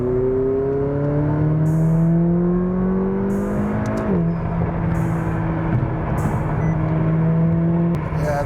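A 2020 McLaren 570S engine runs close by, its steady tone swelling and dipping as it revs and settles, with a smooth rising and falling pitch and no talk over it.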